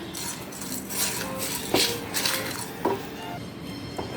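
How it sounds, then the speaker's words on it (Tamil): Pepper, spices and curry leaves dry-roast in a kadai with no oil, a faint rustling scrape punctuated by several sharp metallic clinks of a spoon against the pan. "வெறும் கடாயில் எண்ணெய் எதுவுமே ஊற்ற வேண்டாம் வெறும் கடாயில் வறுத்துக்கலாம்"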